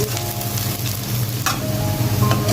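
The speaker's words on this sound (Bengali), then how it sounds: "পেঁয়াজ ভাজা হয়ে গেছে" Onions sizzling in hot oil with whole cumin, a dense crackling hiss with a few utensil clinks, close up and steady throughout.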